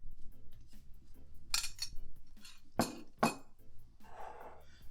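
Flour and butter being mixed in a bowl by hand for Jamaican plantain tart pastry, with soft scraping, light clinks against the bowl and a few louder rubbing bursts, close and fairly quiet.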